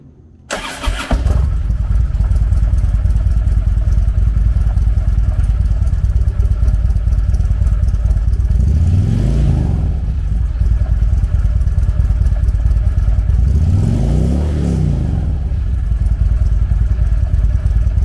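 A 2014 Harley-Davidson Street Glide Special with a 103 cubic inch V-twin starts up and settles into a loud, steady, close idle, with two rising throttle blips partway through.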